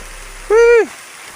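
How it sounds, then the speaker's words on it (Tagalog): Steady rain falls outdoors as a continuous broad hiss, interrupted midway by a brief, loud vocal tone. "panay yung ulan, grabe ang makulimlim talaga yung panahon"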